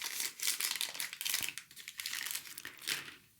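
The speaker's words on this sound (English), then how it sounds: "So if we unwrap it, I'm trying not to make as much noise as possible." A UK chocolate bar being unwrapped up close, its wrapper producing bursts of crinkly, crackling rustles with a few small tearing sounds, quiet and uneven, with no speech.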